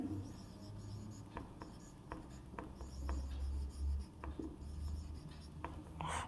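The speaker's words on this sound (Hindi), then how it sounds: "यहाँ पे लिखेंगे वेरिफिकेशन" A pen scratching across paper, with repeated short strokes and scrapes at an uneven pace, close and fairly quiet, as figures are written out by hand during a maths lesson.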